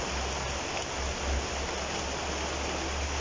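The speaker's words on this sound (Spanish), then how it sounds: "La lluvia." Steady rain falling, a dense, even hiss of drops that fills the whole moment with no pauses and a faint low rumble beneath.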